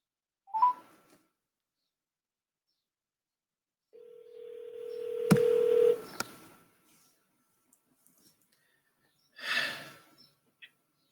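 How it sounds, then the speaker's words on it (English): A telephone dials out to bring a guest onto a live call-in show: a short tone burst, then a steady sustained dial tone lasting about two seconds, followed by quieter shuffling and a brief noise near the end. "So let's get Marlon on the phone"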